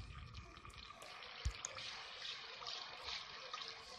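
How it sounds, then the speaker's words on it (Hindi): Half a cup of water poured into a pan of sugar to make syrup for sooji halwa, a soft low trickle and splash with one brief clunk partway through. "ये अब इसमें शीरा बनाने के लिए 1/2 कप पानी"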